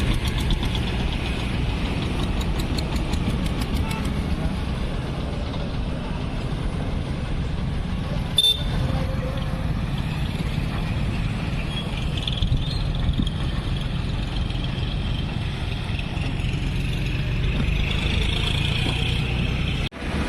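A vehicle engine runs steadily while driving, a continuous low rumble with a faint knocking texture that holds at an even level throughout, and one brief sharp knock partway through.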